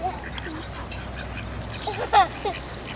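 Several ducks quacking nearby over an outdoor background murmur, with a louder burst of quacks toward the end.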